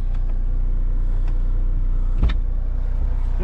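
A Ford Mondeo diesel with an electrical fault idles just after starting, a steady low engine drone held close with no talk.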